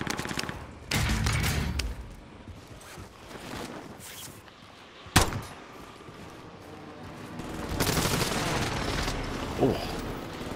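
Gunfire in a first-person shooter video game, a burst of shots and sharp cracks scattered across the scene with one loud close bang midway, heard amid game noise and movement.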